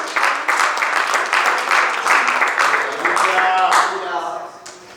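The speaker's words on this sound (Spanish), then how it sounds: "Denle un aplauso fuerte al Señor en esta noche." Sustained applause from a church congregation, loud and steady for several seconds, with voices mixed in before it fades slightly at the end.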